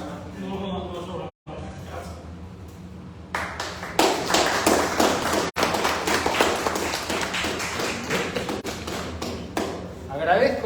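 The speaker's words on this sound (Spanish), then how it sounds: "Agradezco los aplausos" Audience clapping at an evening talk gathering at an art center, a dense burst of applause that swells after a quiet pause and keeps going steadily, close and lively, with scattered voices underneath.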